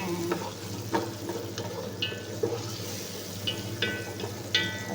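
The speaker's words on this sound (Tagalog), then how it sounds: "Ayan guys, nilagay ko na ang ating sibuyas. Gigisa-gisahin lang natin yan hanggang sa mag-golden brown." Sliced onions sizzle with rice in a pan while a utensil scrapes and stirs through them, giving a steady frying hiss broken by regular sharp clinks and scrapes.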